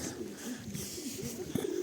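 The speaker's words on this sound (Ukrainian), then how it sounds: "от голуби знову ж таки" Soft pigeon coos murmur close by against a steady outdoor hum, with a slightly louder burst near the end, by a pump room in central Truskavets in snowy winter.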